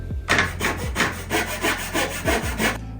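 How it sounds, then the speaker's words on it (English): A hand saw cutting through wood in steady back-and-forth strokes, loud and close, with a rhythmic rasping sound. "I'm gonna go back to the crosscut saw"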